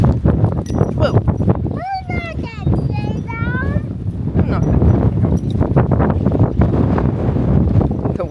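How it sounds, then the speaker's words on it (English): Strong gusts of wind sweep across a farm with a young bottle-fed animal, buffeting loudly and roughly throughout. Short high bleat-like calls and people's voices come through the rush. "The wind's like blowing him over."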